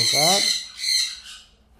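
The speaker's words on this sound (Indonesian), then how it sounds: "Indian ringneck ini memang burung yang panikan" An Indian ringneck parakeet gives three loud, harsh squawks close by, the first longest and strongest, the next two shorter and fading, with no talk over them.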